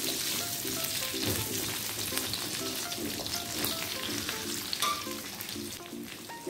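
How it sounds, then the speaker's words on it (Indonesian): Green chilies and bird's eye chilies fry in a pan, a close, steady sizzle broken by repeated scraping strokes as they are stirred, with no voices. "saya akan masukkan cili hijau sama cengek. Ini diaduk dulu"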